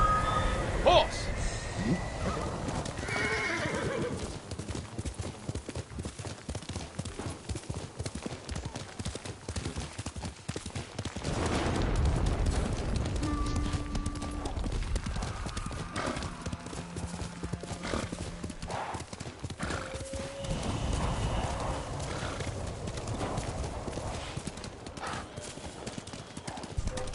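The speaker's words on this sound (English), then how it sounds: "Horse!" Steady clip-clop of hooves at a gallop in Ghost of Tsushima, with a horse neighing a few times amid busy game background noise.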